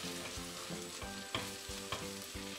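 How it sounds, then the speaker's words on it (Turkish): Rice sautés in a pan for olive oil stuffed grape leaves with a soft, steady sizzle, as a spoon stirs and taps in a regular rhythm about twice a second. "Yaklaşık 3 dakika boyunca pirinçlerle beraber kavurdum."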